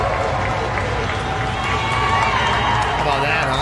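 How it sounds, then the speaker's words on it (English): A large crowd in Atlanta cheers for medical personnel at a hospital shift change, a loud, continuous wash of voices and applause. "In Atlanta, people were cheering for medical personnel during a shift change."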